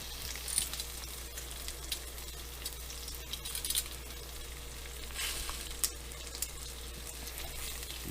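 Jamaican-style oxtail browns in a hot pot, giving a steady, close frying sizzle with faint crackles and pops throughout and no talking.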